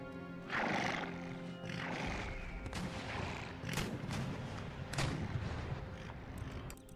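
Cavalry horses neigh and whinny during a battle in Empire: Total War, mixed with scattered bursts of gunfire and artillery across a dense, continuous battlefield din.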